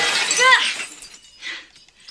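Window glass is smashed with a telephone in the film Drop Dead Fred: a loud, bright shattering crash with tinkling fragments, then a second, softer burst of falling glass.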